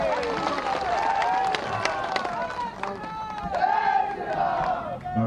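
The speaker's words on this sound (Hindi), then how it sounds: "हमारे प्रधानमंत्री नरेंद्र मोदी जी के लिए जोरदार ताली बजाकर" A large rally crowd at an election public meeting in Garhwa, Jharkhand, cheers and shouts continuously with some clapping mixed in, a loud dense roar that rises and falls, with a voice calling out above it.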